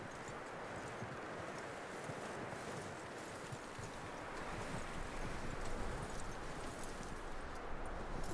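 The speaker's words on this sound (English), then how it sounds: "That looks like a decent horse." Steady clopping of horse hooves on a hard surface in Red Dead Redemption 2, continuous and fairly close, over a constant wash of outdoor ambience and faint rustling.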